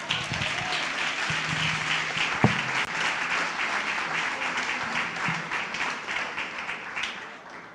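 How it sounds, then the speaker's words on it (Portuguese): Congregation applauding during a church healing and deliverance service, a dense steady wash of many hands clapping at moderate distance, with a few sharper claps standing out, fading slightly at the end. "Pode aplaudir, aplauda primeiro"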